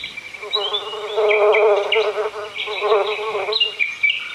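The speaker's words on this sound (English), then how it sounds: "Rabbit is looking for honeybees, so he follows one little bee." Honeybees buzz steadily and close by, a wavering drone that swells and fades as it moves, with faint bird chirps and sounds of a storybook nature recording behind it.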